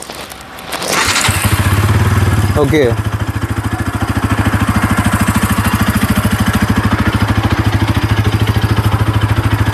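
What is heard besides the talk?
Bajaj Pulsar NS 200 motorcycle starting and idling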